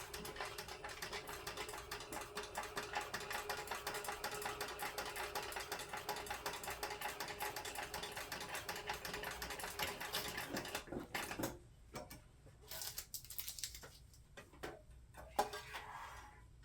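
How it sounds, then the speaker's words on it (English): A sewing machine runs steadily, backstitching a seam on a zippered crossbody bag, a continuous rapid mechanical whir that stops abruptly, followed by a few short bursts and handling clicks. "I like to backstitch a little bit extra here to secure it."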